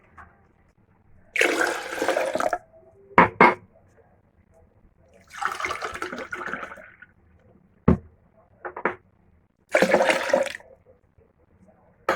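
Milk is poured from cups in several separate bursts for a homemade sobia drink. Each splashing gush lasts a second or two, with short clinks and knocks of the cups between pours.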